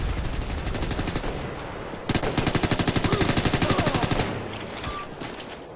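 Rapid automatic weapon fire from the Ghost Recon Future Soldier video game rattles in a sustained burst of sharp, evenly spaced shots, loud and near, with no voices.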